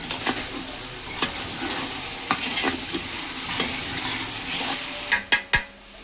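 Onions frying in oil in a pan while being stirred, a steady close sizzle broken by scraping stirs and a few sharp utensil knocks against the pan near the end.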